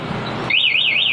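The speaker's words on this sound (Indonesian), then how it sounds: "maka alarm ini akan tetap berbunyi keras dan motor tidak bisa dihidupkan sama sekali" A Yamaha NMAX motorcycle's anti-theft alarm switches on loudly after a brief rumble, its siren tone warbling up and down in a steady wailing cycle.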